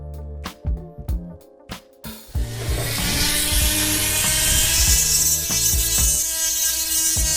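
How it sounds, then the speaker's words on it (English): A Dremel rotary tool grinds while crash protection frame sliders are fitted on a motorcycle, starting as a few short taps and bursts, then running as a loud, steady high whine for several seconds. "I'll probably get a Dremel out too."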